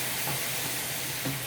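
Stock poured over Brussels sprouts frying in a pan hisses and sizzles steadily, a close, broad, continuous frying noise with no talk.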